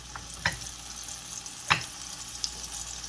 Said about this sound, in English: And fried fish is on the menu this morning.